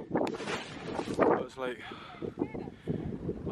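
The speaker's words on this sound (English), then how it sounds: "a bit windy" Gusty wind buffets the microphone on the ridge at Quiraing, rumbling in uneven bursts while a person talks over it.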